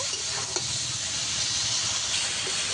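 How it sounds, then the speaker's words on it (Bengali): Spiced water sizzles and hisses steadily in a hot pan as vegetables are stirred and sautéed for a poppy-seed (posto) dish, a continuous close frying sound with occasional stirring scrapes. "মশলা করা জলটা দিয়ে দেবো এবার ভালো করে একটু কষিয়ে নেব"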